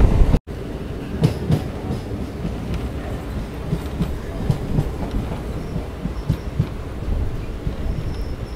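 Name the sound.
local train from Bangaon approaching Satberia station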